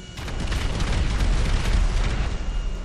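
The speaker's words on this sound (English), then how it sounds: "And then I'm going to stand right in the explosion." A large explosion in GTA V erupts up close, a loud sustained rumbling blast with heavy low-end roar lasting a few seconds.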